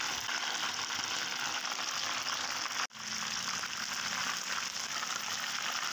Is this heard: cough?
no